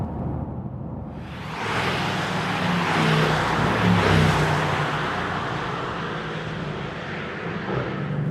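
A Mercedes-AMG GT R on a wet, rainy racetrack rises out of quiet into a loud, sustained rushing roar with hissing spray that holds steady to the end.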